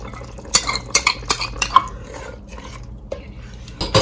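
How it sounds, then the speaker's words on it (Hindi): Blended yogurt is added to a pan for a homemade chicken qurma, with spoon taps, clinks and scraping against the pan in a short irregular cluster, close and clear, then a quieter pause and a final clink, with no talk. "ये देखें दही मैंने ब्लेंड कर लिया, मैं इसको शामिल कर रही हूँ।"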